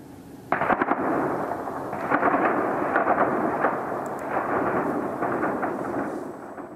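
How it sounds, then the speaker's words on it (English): Sharp cracks of gunfire and muffled blasts of war in Kyiv, Ukraine rumble at a distance, repeated irregularly over a dull continuous roar. "gunshots and explosions could be heard"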